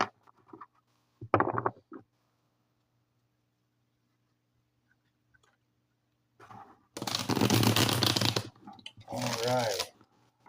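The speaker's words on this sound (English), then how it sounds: "it a couple more shuffles here and then we'll get started." Tarot cards are shuffled in two short bursts of crisp riffling and patter, close and fairly loud, after a brief quiet stretch with a faint background hum and a few soft sounds.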